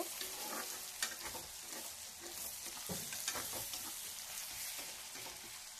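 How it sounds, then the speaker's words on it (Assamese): Onions frying in a pan until browned, a steady close sizzle with scraping stir strokes, fairly quiet and continuous, with no talking. "পিয়াজখিনি ৰঙা নোহোৱালৈকে ভাজি থাকিব লাগিব"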